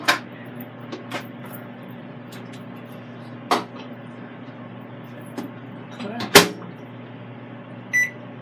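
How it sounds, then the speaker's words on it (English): A microwave oven hums steadily at close range, with a few sharp clicks and knocks and a short beep near the end. "Put this in the microwave for 5 minutes."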